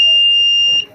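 A homemade mini multimeter gives a steady, piercing continuity beep while testing a switch, holding loud for most of a second before cutting off abruptly.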